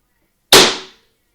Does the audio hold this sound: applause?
no